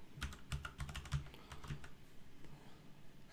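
Quick irregular key presses on a computer keyboard, close, over a steady background hum, with no talking.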